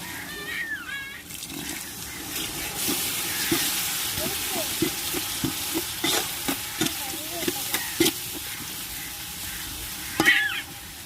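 Masala powder, chilli powder and curd sizzling and being stirred in a pot for chicken biryani, a steady frying hiss with repeated scraping stir strokes close by.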